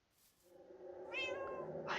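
A Minecraft cat gives a single clear meow, rising and then falling in pitch, heard close and alone against a quiet background.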